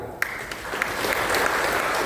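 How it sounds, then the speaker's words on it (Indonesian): Steady applause from an audience at a special plenary session of a regional parliament in Banyuwangi, a dense even patter of clapping that starts abruptly and holds at full level to the end. "Beri tepuk tangan."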